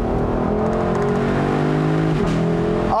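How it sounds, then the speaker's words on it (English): The V8 engine of a 2021 Lexus LC500 Convertible revs hard and steadily, a loud rich harmonic roar that dips briefly in pitch near the end before climbing again, heard close without talk. "Oh my God, I can't get over this engine."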